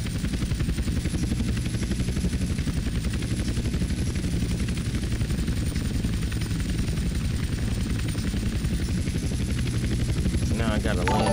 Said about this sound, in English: Now I gotta land a helicopter in the proper location as well.